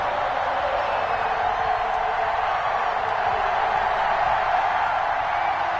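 A stadium crowd in an NFL video game roars steadily for Kansas City before kickoff against the San Francisco 49ers, a loud, continuous wash of cheering without breaks.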